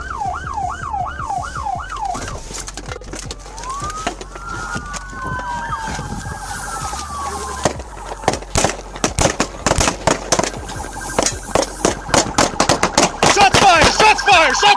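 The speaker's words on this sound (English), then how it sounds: "Shots fired!" A burst of rapid gunshots during a police pursuit shootout, loud cracking reports that grow denser toward the end, following wailing police sirens and engine noise.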